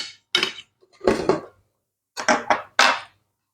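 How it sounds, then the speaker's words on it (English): A utensil stirs cauliflower rice around a pan in four or five short, close scraping and clinking bursts separated by brief silences. "Just give it a little stir around, stir that through"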